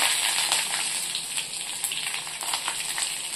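Mustard seeds spluttering and popping in hot oil alongside cumin and dried chillies, a steady close crackle of sharp pops running the whole time with no voices.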